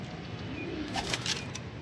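Sialkoti pigeons, including a pearl-marked bird, coo softly at close range in low rolling calls over steady background noise.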